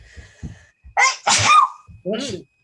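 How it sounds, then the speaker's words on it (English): A few short sharp bursts of breath and voice, including a sudden explosive sneeze, close to the microphone with brief pauses between. "I think I'm going to sneeze here soon."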